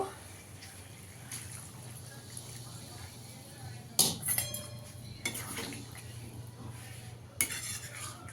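Masala chicken being stirred and fried in a pan, a few scraping clatters of a utensil against the metal rising out of a quiet steady hum, with soft liquid sounds in between.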